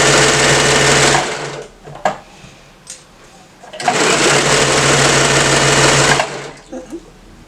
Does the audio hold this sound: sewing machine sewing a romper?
yes